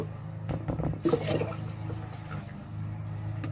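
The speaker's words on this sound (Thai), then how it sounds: "เสร็จแล้วเราก็จะเทน้ำในกระมังเนี่ยค่ะทิ้ง" Water from soaking mung beans is poured out of a basin in a bean-sprouting setup, heard as a brief splashing gush followed by softer trickling and drips close by.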